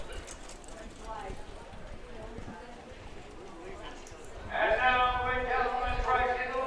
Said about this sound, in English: Horse going by with elbow boots on, you don't see that much anymore